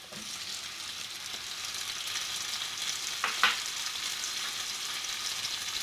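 Chopped tomatoes sizzle steadily in a hot pan, a constant frying hiss with a couple of brief stirring scrapes partway through.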